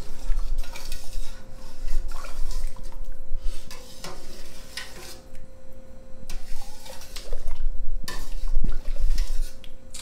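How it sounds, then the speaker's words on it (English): A spoon stirs potato leek soup with egg and cream in a pot, giving steady scraping and sloshing through the whole stretch over a low simmering bubble, close and fairly loud with no talk. "so I'm just gonna keep stirring it while that cooks."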